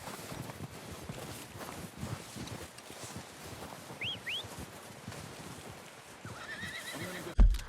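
A horse whinnies briefly in the video game Red Dead Redemption 2, amid a busy ambient background of rustling and hooves, the neigh fairly faint and short.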